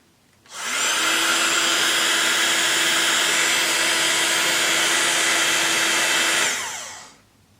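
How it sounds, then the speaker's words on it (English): Loud heat gun switching on and blowing hot air over paper junk journal crafts, a steady whooshing whine held for about six seconds before cutting off, close up with no talking. "this is quite a loud heat gun"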